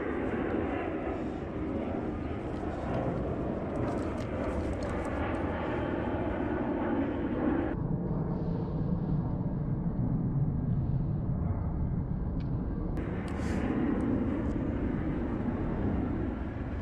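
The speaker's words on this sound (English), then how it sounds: "there's a plane taking off" An airplane takes off from a nearby airbase, its engines giving a sustained, loud roar that builds and shifts in pitch, heard outdoors over the passing noise of an e-bike ride.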